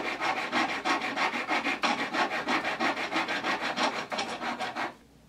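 Rhythmic back-and-forth sawing through a small wooden pen blank, about a dozen quick even strokes, close and clear, stopping abruptly at the end.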